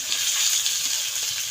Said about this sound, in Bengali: এখানে আমি আলুটা কষে নিচ্ছি